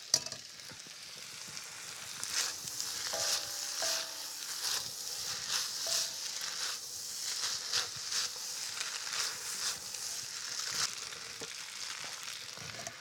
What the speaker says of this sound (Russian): креветки я тоже прогреваю в воке, никуда не отхожу, смотрите, я все время помешиваю